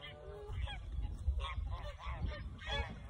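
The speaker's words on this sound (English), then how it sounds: "look at the ducks" Waterfowl on a lake call in a series of nasal honks and quacks, moderately close, scattered irregularly over a low background rumble.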